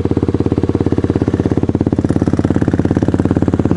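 A Kayo 110 quad bike engine revs steadily and loud up close, a fast even pulsing throb held throughout with no pause.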